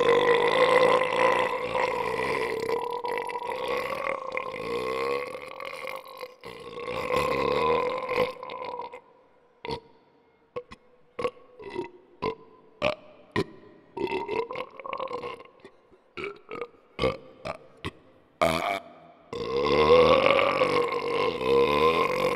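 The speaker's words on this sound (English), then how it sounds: "A good-sounding burp." A woman burps after downing a fizzy soda at a burping contest: long, loud, croaking belches, then a run of short choppy burps, then another long drawn-out belch close up.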